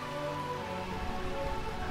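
Steady rainfall in Burmecia from the video game Final Fantasy IX, a continuous dense patter with faint musical tones underneath.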